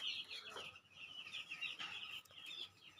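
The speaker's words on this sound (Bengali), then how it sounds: "এখানে টোটাল 100 পিস মুরগির বাচ্চা রয়েছে লেয়ার।" A flock of 100 layer chicken chicks on a farm, a dense chorus of high, continuous peeping cheeps, close and fairly soft, with overlapping chirps throughout and no talk.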